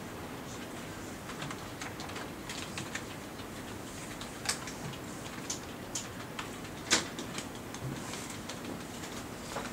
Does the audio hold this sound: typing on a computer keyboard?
yes